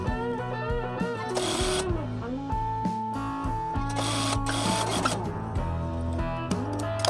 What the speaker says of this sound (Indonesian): Langsung kita jahit dari bagian dalam.